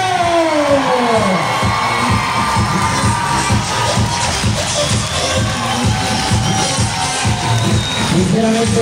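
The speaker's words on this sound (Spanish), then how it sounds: "deseamos saber con el último de sus aplausos, de sus gritos, y nos diga qué tanto, pero qué tanto les gustó nuestra" A big circus audience at the end of a show in Chiclayo claps, cheers and shouts together, loud and close, in a dense continuous wave, with children's voices standing out.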